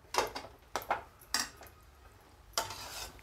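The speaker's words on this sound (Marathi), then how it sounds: "आता आपण ते कुचकरलेला बटाटा टाकू। आता आपण हलवून घेऊ।" A utensil scrapes and clinks against a pan while stirring mashed potato with roasted chillies, turmeric and salt for paratha filling, four or five short, close strokes with pauses between.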